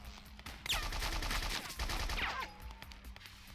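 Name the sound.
gunfire in the video game BloodRayne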